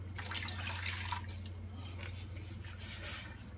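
Water trickles and splashes faintly while a blocked wet room shower drain is rinsed out, a soft running flow with intermittent drips beneath a steady low hum.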